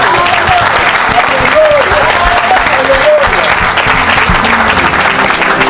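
A church crowd at an evangelistic gathering breaks into loud, sustained applause and cheering in praise of Jesus, steady clapping with voices rising over it throughout.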